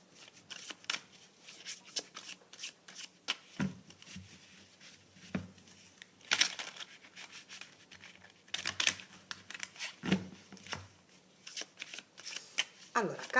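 Tarot cards are shuffled in quick, soft riffling bursts and taps across a quiet room, close and fairly faint, with occasional sharper card snaps.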